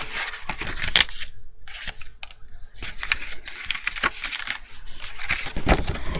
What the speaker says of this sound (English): I'm just going to cut the windows out for you.